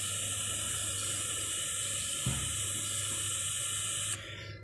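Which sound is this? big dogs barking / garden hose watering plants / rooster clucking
garden hose watering plants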